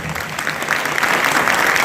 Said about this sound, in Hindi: प्लीज जोरदार ताली दोस्तों।